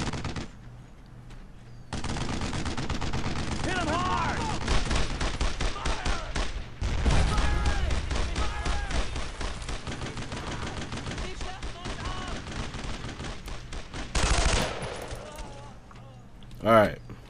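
Rapid machine-gun bursts and rifle shots rattle in Brothers In Arms: Road to Hill 30, in dense volleys that stop and start, with voices talking between the shots.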